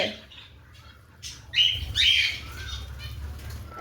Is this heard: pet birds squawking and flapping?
yes